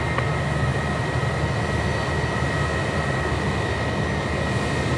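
An All Nippon Airways jet departing Sydney Airport sends out a steady, loud engine roar with a thin high whine, constant from start to finish and free of talk.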